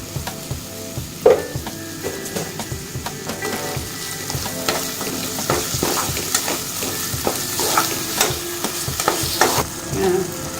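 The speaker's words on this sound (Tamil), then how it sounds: "நல்லா வதக்கிக்கிறோம்." Onions sautéing in a pan, ahead of a mushroom dish, with a steady sizzle and repeated scraping stirs of a spoon against the pan, heard up close with no voices.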